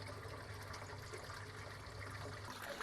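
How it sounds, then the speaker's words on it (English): Water running out of a grow bed's bottom outlet back into an IBC fish tank in an aquaponics setup, a steady, faint trickling and splashing flow that holds constant throughout with no voices. "Here it is coming out of the bottom, the outlet, letting it back into the bottom of the tank."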